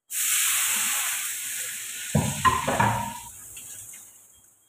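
Bitter gourd and onions fry in a pan with a bright, steady sizzle that fades after the gas is switched off, broken by a few clattering scrapes as the food is tipped out.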